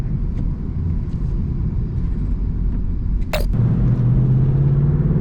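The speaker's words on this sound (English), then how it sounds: "I did switch it into Sport Plus mode, which unleashes that nice naturally aspirated V8 exhaust sound" Low, steady rumble of a 2018 Ford Mustang GT Premium's naturally aspirated V8 in Sport Plus mode, heard from inside while cruising, with a brief click midway and a rising engine tone toward the end.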